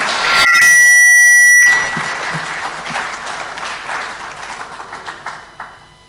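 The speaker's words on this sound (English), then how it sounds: "Let's give His Excellency a very warm clap for launching." A loud, piercing electronic tone or horn opens a launch ceremony before warm audience applause takes over, the clapping steady and close, gradually thinning out toward the end.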